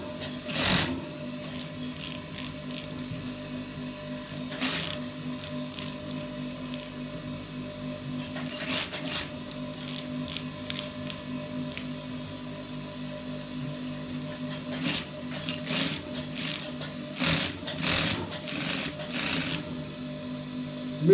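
Sewing machine stitching a placket on a top with a pipe neckline, running in a continuous whirring hum with several sharper bursts of stitching, steady and close.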